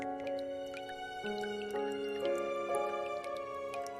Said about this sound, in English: Open the tab. The shiny object could be carried away by the stream of water.